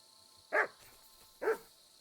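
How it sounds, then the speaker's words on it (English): A dog in the video game Kingdom Come: Deliverance 2 gives two sharp barks about a second apart, at a medium distance over a faint background hum. "I can't seem to see the dog."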